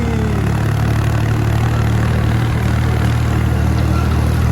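Tractor engine running steadily with a loud, close, continuous low diesel rumble and droning hum, constant throughout with no gaps, heard from on board the tractor.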